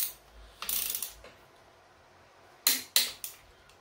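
A torque wrench tightening crankshaft bolts to 70 foot-pounds on a 1984 GMC Sierra square-body engine build gives a few sharp mechanical clicks and ratcheting bursts, close and distinct, separated by quiet pauses.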